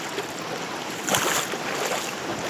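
A mountain river flows between hills over its stony bed on a cold morning, giving a steady, close rushing and gurgling wash of water with no voices.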